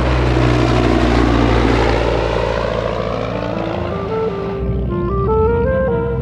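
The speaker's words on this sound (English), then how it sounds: "a droning sound filled the air above Woburn Abbey" A propeller plane drones loudly and steadily close overhead, its engine pitch sliding gradually downward as it passes.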